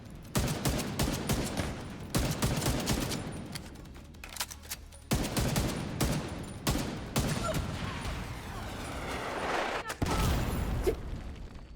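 Video game gunfire cracks out in loud bursts and volleys, separated by short pauses, with an occasional heavier boom near the end.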